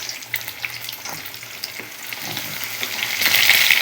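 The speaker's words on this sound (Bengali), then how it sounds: "আমি এক এক করে মাছগুলো ভাজবো একটা একটা করে।" Spiced fish fries one piece at a time in hot oil over low heat, a close, steady sizzle with crackling pops that grows louder toward the end.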